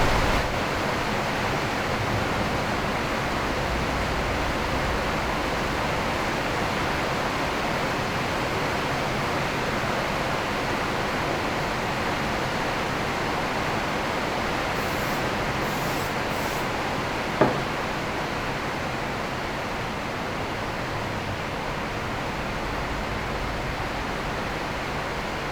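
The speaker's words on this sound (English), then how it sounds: "it's pouring rain here" Pouring rain hisses in a steady, even wash outside a home workshop, constant and fairly loud, with a single sharp knock partway through and no talk.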